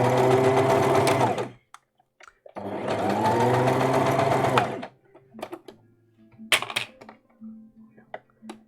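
A sewing machine runs a straight stitch along a dress seam in two steady bursts of about two seconds each, close and loud. Softer clicks and handling noises follow between the runs.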